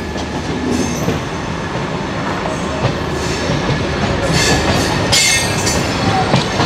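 Rajdhani Express pulling out of New Delhi station, a continuous rolling rumble of railcars with rising wheel noise and a few brief metallic squeals toward the end.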